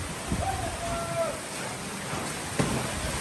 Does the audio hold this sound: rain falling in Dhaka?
yes